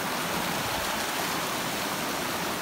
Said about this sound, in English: the river's got quite a bit of flow to it